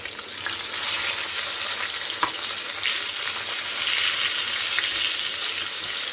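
A fish fries in a pan with a loud, continuous sizzle that swells as it is flipped, with a couple of soft clicks from the utensil against the pan, close and steady.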